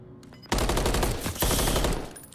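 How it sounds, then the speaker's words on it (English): Rapid automatic gunfire in a competitive Call of Duty match bursts in after a quiet start and keeps rattling for about two seconds, loud and close, with no voices. "Tough angle, tough gunfight,"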